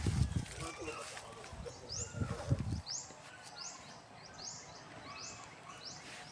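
Morning birds give a series of faint, repeated upward chirps in the open air, following some louder low rustling and voices at the start.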